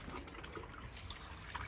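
Grey water sloshes and trickles inside a camper's water container as it is handled, a faint, continuous liquid dribble with no talk.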